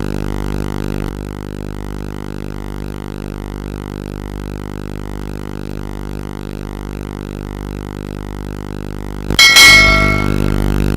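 A loud bell rings once in a televised school quiz contest, signalling the end of answer time; it strikes sharply after a long steady tonal hum and rings on bright and close.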